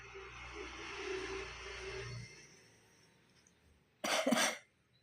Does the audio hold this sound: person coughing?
yes